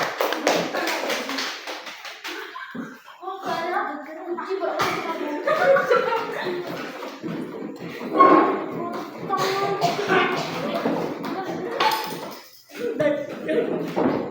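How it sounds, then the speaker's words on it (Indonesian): A class claps together in a loose, sustained round of applause, with voices chattering and laughing throughout. "Ya, tepuk tangan."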